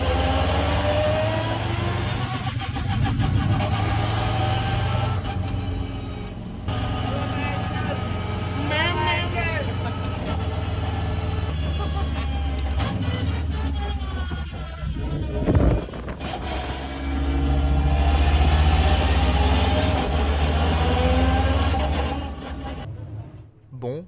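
Race cars set off at the start of a 26-hour endurance race at Portimao, their engines droning and roaring steadily throughout, with people talking over the loud, continuous mechanical noise.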